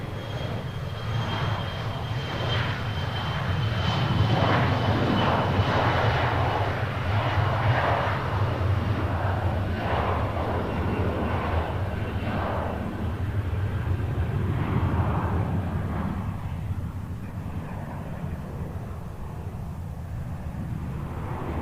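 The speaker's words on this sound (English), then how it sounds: "goes Air Canada to CRJ" An Air Canada CRJ regional jet passes at an airport, its engine roar swelling and holding loud with a steady high whine on top, then easing off toward the end.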